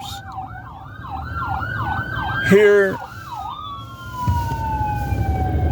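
A wailing emergency siren sweeps up and down nearby, joined briefly by a deep horn blast, with traffic rumble underneath and a voice briefly speaking.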